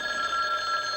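Telephone bell ringing indoors, a bright steady electric ring sounding clearly and alone with no voices over it.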